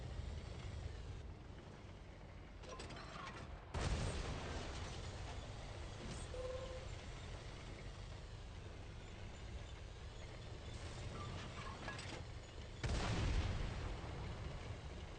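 Artillery fire in a tank video game with a Japanese Type 63 heavy tank, heard as a few deep booms and blasts over a constant rumbling engine drone, one near the start and another late on.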